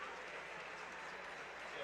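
A crowd applauds a departing senior player at a boys' tournament basketball game between New Knoxville and St Henry, a steady, dense wash of clapping that runs throughout with a voice speaking over it.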